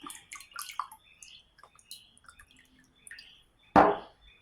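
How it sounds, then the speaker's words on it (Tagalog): A brief, loud gush of water poured into a pan of sweet-and-sour fishball sauce near the end, after quiet kitchen clatter and faint drips. "Lagyan natin ng tubig."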